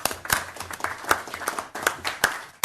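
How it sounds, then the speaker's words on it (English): Sparse, scattered clapping from a small audience at a city council meeting, a handful of distinct hand claps spread unevenly over a few seconds in a quiet room. "Round of applause for you guys."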